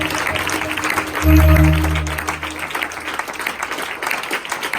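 A church congregation breaks into applause, a dense roomy clatter of many hands that swells briefly under a sustained organ-like chord and continues faintly over a murmur of voices.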